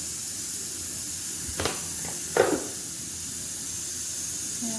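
Onion, chilli and garlic sizzling in a hot pan, a steady soft hiss with a few brief louder crackling bursts near the middle, close and alone.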